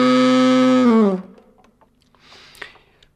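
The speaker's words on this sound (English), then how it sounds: "The saxophone growl then sounds a bit like this." A saxophone plays a held, buzzing growl note made by humming in the throat while playing, loud and close, sliding down and ending after about a second, followed by faint clicks.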